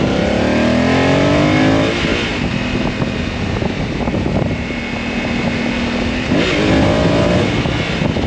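A 2022 Honda Africa Twin motorcycle engine runs loud and close, with rising revs at the start, a steady drone through the middle, then another climbing rev near the end.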